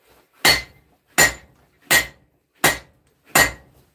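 Five evenly spaced hammer blows ring out on hot steel as a sword blade is bevelled at the forge, each strike sharp and loud with a brief metallic ring, nothing else between them.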